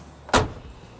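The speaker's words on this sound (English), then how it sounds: "Door shut nice and smooth." The door of a Plymouth Roadrunner swings shut with a single solid thud, close and clear, in an otherwise quiet moment.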